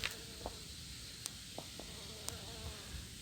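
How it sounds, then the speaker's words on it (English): A startled bee buzzes faintly nearby over quiet outdoor background noise, broken by a few soft clicks and taps. "Look, right up here we see another bee"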